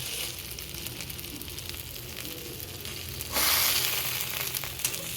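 Stuffed eggplant and stuffed chillies fry in a little oil, giving a steady close sizzle and crackle that turns louder and brighter partway through, with no voices.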